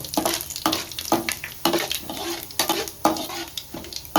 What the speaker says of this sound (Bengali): এখন আমি এর মধ্যে দিয়ে দিচ্ছি পাঁচ ফোড়ন একটু হালকা আমি ভেজে নেব